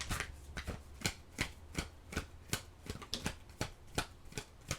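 Oracle cards are shuffled close by in a quiet room: a steady run of soft, crisp riffles and flicks comes about twice a second, with no talk over it.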